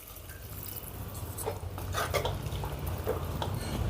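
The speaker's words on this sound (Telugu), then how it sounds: "ఇప్పుడు ఇందులో ఒక two hundred ML water add చేసుకుందాం" Water, about 200 ml, poured into a pan of ridge gourd curry: a soft, continuous splashing and trickling close by, with a few brief drips and clinks, growing slightly fuller as it goes.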